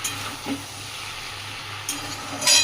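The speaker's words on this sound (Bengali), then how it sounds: "আমি এখন একটুখানি এটা দিয়ে একটু নাড়াচাড়া করি" Chalta (elephant apple) pickle with sugar being stirred in a pan: a soft, steady sizzle with a few scraping strokes, the last one loudest.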